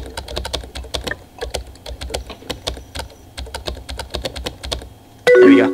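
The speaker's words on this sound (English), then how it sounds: "Like fucking spam the keyboard." Rapid typing on a computer keyboard, a dense run of close, crisp key clicks in quick irregular bursts, ending in a short electronic chime.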